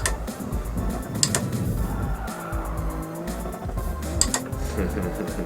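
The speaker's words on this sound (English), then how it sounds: "It's just grinding the side of the car against a wall." A car on the Nordschleife scrapes its side along a wall, a harsh sustained grinding and squealing laid over engine noise, loud and close, with no talking.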